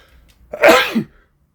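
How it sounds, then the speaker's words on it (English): A single loud sneeze bursts out close by, a quick sharp intake followed by an explosive release, then silence. "I'm going to sneeze."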